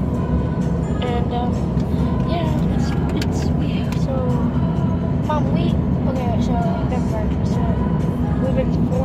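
Constant loud road rumble from inside a moving car on a Texas road trip, a steady engine and tire drone with faint voices murmuring underneath.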